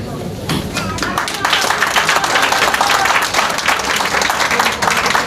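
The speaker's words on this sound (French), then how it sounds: "on applaudit très fort, Madame l'ambassadeur" Audience at an official ceremony in Dakhla, Morocco, applauding loudly and steadily for a woman ambassador, a dense sustained crowd clapping that swells after the first second and holds throughout.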